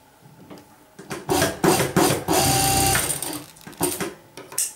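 Sewing machine stitching a baby dhoti in short bursts of rapid whirring and clatter, starting and stopping several times, close and fairly loud.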